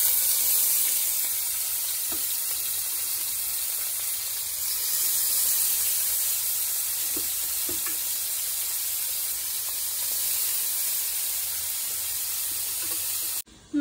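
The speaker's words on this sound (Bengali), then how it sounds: "মাছ ভেজে তুলে নিলাম" Shrimp and fish sizzle steadily in hot oil in a wok, a continuous bright hiss with faint scattered pops and clinks throughout, heard close up with no talking.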